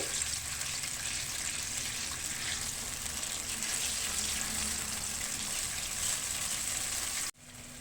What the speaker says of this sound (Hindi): अब हम जो अदरक लहसुन का पेस्ट तैयार किया था वो इसमें ऐड कर देंगे। अब इसको हम फ्राई कर लेंगे।